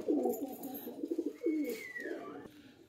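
Caged pigeons coo in low, rolling throaty calls that repeat close by, with a faint higher whistle-like sound drifting through partway.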